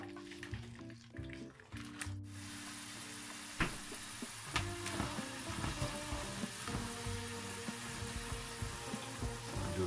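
Chicken drumsticks frying in hot oil in a home kitchen, a steady crackling sizzle with scattered pops and occasional clatter of utensils, close by and with no talk.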